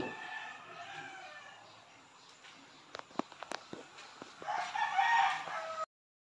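A rooster crows among chickens at feeding time in a farmyard, with scattered clucks and a few sharp taps like feed or footsteps, then a louder, fuller crow near the end.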